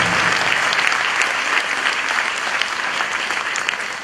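A school audience gives a steady, dense round of applause for a new headmaster, the clapping loud and continuous throughout with no voices rising above it.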